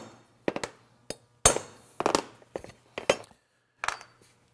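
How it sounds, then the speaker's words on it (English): A hammer strikes a center punch on a C5/C6 Corvette control arm, about eight sharp metallic blows with ringing decay, irregularly spaced and close, with no voices. "I'll go ahead and take a center punch. I'm going to go ahead and punch that real quick."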